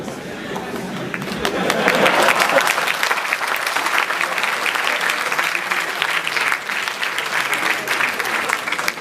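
Loud, sustained applause from a large audience at IIM Bangalore, dense clapping that swells early and keeps going steadily throughout.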